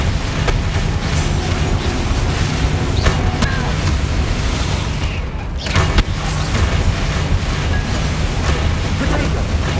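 Bombarda explosion spells from Hogwarts Legacy, cast repeatedly as booming blasts in a continuous, loud rumbling fight mix, with one sharp burst near the middle.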